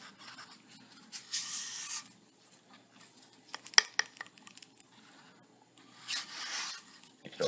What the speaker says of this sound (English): You could also use the other spatula, like scrape this off like that.